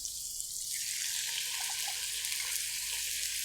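Julienned chicken breast strips go into a hot pan for a budget chicken stir fry, giving a steady, bright hiss of sizzling oil that stays even and close with no talking.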